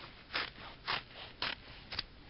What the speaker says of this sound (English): I'm going to cut straps.